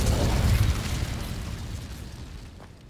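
A single fiery Incendio spell burst from Hogwarts Legacy, loud and deep at the start and then a roaring rumble that fades steadily over about three seconds, with no talk.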